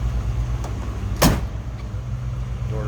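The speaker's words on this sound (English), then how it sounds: "Door closes nicely." The door of a 1967 Ford Mustang Coupe shuts once with a single solid thud, close and clear, over a steady low background rumble.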